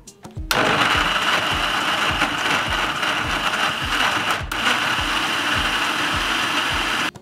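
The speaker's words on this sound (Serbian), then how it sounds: "Poklopit ću i sve ću ovo samleti." A blender whirs loudly and steadily as it grinds kiwi, lemon, ginger and water, with a dense mechanical roar and a quick pulsing chop running underneath. It starts abruptly and cuts off near the end.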